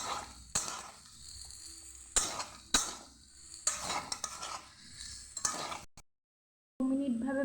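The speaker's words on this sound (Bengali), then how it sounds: "2 মিনিট লো আঁচে করে ভালোভাবে এটাকে আমি মিশিয়ে ভেজে নেব" Samosa filling stirred and fried in a pan over low heat, a spoon scraping and clinking against the metal in repeated strokes under a soft sizzle, close by, with a brief silent gap near the end.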